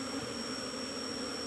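Steady, dense buzzing of a honeybee swarm close around a hive being shifted into a cultivation box, a continuous drone with no talk.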